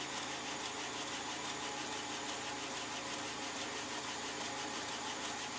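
A knife blade grinds against a 400 grit belt on a 2x72 belt grinder, a steady, dense, loud abrasive whir with the motor's hum running unbroken throughout.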